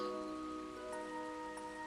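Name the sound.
rain falling in video game Trails to Azure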